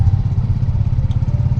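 A Royal Enfield Meteor 350 motorcycle cruising at a moderate road speed, its steady low engine thump and exhaust drone running continuously and close up, with wind rumble.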